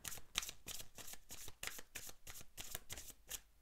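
Tarot cards are riffled and shuffled for a reading, giving a steady, close rustling with rhythmic flutters throughout and no voice.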